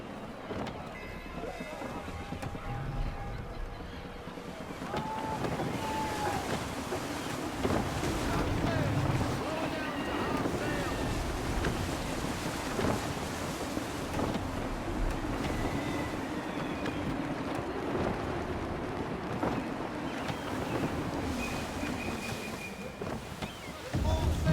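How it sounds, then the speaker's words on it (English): In Assassin's Creed 3 a sailing ship rides the waves in gusty wind, a continuous loud rushing roar of wind and water with creaking, while voices talk over it. "Gusty winds can be difficult to manage."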